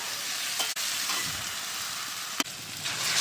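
Water poured into a pan of sizzling spice mixture, giving a steady, close frying hiss with brief sharp clicks of the pan; no one talks.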